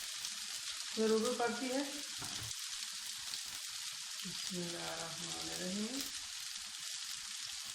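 Eggplant frying in oil in a pan gives a steady, close sizzle that runs the whole time, with a voice speaking briefly over it twice.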